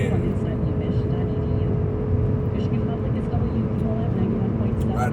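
A car cruising on a freeway at about 75 mph gives a steady, loud low road-and-engine drone that runs unbroken throughout, with people talking over it.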